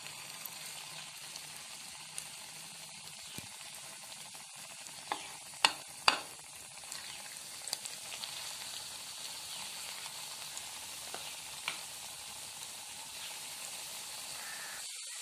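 Bread snack pieces fry in a hot pan, giving a steady soft sizzle with occasional stirring clinks and scrapes, close by and moderately quiet.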